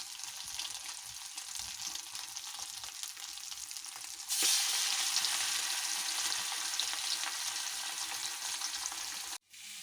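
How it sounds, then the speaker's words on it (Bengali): Fish seasoned with turmeric, chili and salt frying in hot oil gives a steady, close sizzle that grows louder and brighter partway through, then breaks off briefly near the end. "মাছগুলা ভেজে নিয়েছি"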